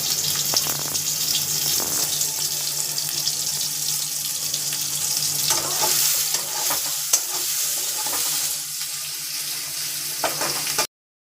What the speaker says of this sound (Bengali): সয়াবিনটা বন্ধুরা ভালো করে ভেজে নেবো, নাহলে কাঁচা কাঁচা রয়ে যাবে।